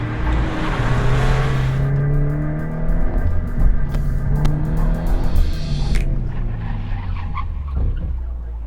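A Mazda MX-5 ND Miata or Subaru BRZ with worn front tires accelerating hard on an autocross course, engine revving loudly and steadily through rising gears, with tire noise as the rear rotates.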